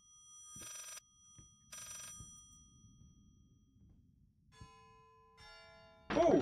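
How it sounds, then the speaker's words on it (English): Old telephone bell ringing in the VR horror game Layers of Fear, two separate quiet rings with footsteps and faint ambience between, followed by other chimes and a sudden louder burst at the end. "Oh, there goes the phone."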